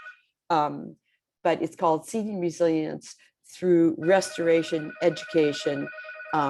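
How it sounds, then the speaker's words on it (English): An electronic telephone ringing indoors, a steady repeating tone sitting under and between ongoing conversational speech near the end. "Excuse my phone, for some reason it's ringing."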